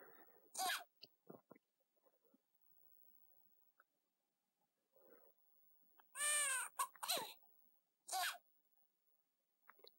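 Several short, high-pitched cat meows from the video game Imagine: Babysitters sound out, one longer and wavering, separated by quiet gaps with soft mouth noises and faint murmurs.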